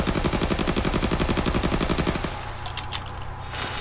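Rapid automatic fire from an M23 submachine gun in a video game, a steady close burst for about two seconds, then it stops and quieter game sounds continue.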